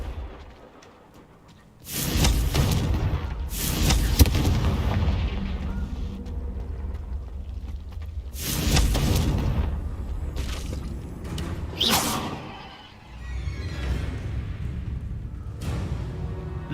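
Confringo blast spells exploding in the Hogwarts Legacy video game, a series of loud booming bursts with rumbling decay, several separate blasts spread across the stretch, no talk.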